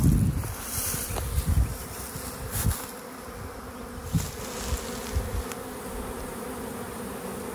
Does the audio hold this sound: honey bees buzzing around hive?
yes